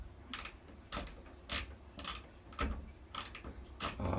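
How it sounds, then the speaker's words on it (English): Socket wrench ratcheting in short bursts while working on a Kenmore Elite washer, about seven quick clicking runs spaced roughly half a second apart, close and fairly quiet, with no talking. "So I'm going to put my socket back here because I can't put my 1/4 inch screwdriver in there."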